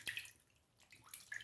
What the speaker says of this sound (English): Let me just soak the brush under water really quick.